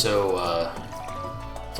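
Watering crops in the farming video game Stardew Valley: a soft, liquid dripping and pouring effect plays under steady game music and a talking voice for about two seconds.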